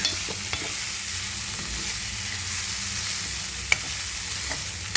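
Poha (flattened rice) being mixed in a pan with the stove switched off, a soft continuous hiss with faint scattered scrapes and one small clink, close and quiet, no talk.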